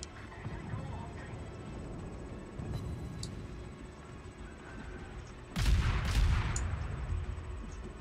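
Naval guns fire in World of Warships aboard the destroyer Shinonome: a booming burst of gunfire lands after several seconds of rumbling, low background noise and fainter distant thuds.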